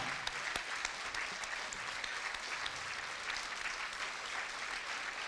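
Sustained applause from a large audience at a Boys and Girls Club gala dinner, with dense, even clapping at a constant loudness and a few sharper claps standing out near the start.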